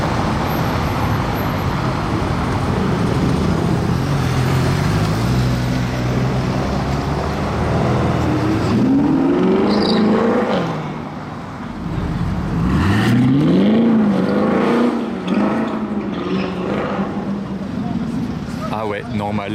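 Sports car revving and driving over Paris cobblestones, a loud rising and falling engine drone with two clear revs while people talk over it.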